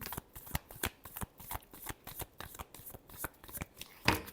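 Tarot cards are shuffled by hand in a quick, uneven series of soft riffling snaps up close, with no talking.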